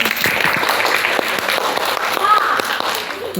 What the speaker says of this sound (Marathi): वा, टाळ्या मुलांसाठी.